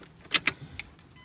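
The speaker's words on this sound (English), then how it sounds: "Keys turned on." Keys turned in the ignition of a Mazda 3, a short metallic jingle with a couple of close clicks followed by faint softer ticks inside the car.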